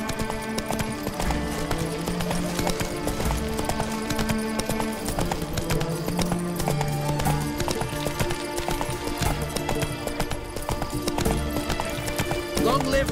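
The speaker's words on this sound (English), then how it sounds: "Not so fast, Roach." A horse gallops in The Witcher 3 video game, its hooves beating a steady, fast clip-clop that runs through the whole stretch over a dense musical score, with occasional neighs.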